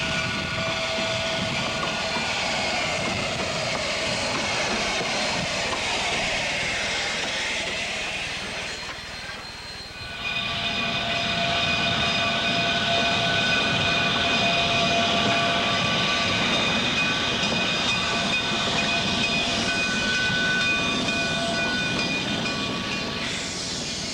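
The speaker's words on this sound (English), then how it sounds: "As the trains pull in at the end of the trip, another day is done." Narrow gauge trains pulling into a terminal at the end of a trip, a loud continuous rumble with sustained steady tones over it, briefly easing then returning, with no talk.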